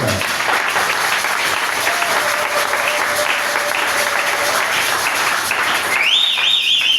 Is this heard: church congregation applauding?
yes